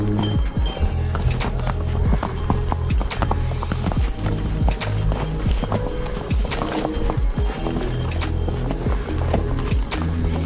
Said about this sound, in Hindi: ये मेरा घोड़ा बहुत अच्छा घोड़ा चल रहा है